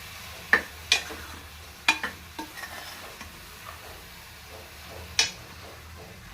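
Boiled goat tripe frying in a pan with a steady soft sizzle, while a spoon stirs and scrapes, knocking against the pan in sharp taps every second or so, close and with no talk.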